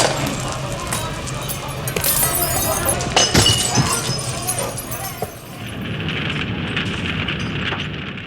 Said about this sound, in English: Jewish windows were smashed, their businesses were looted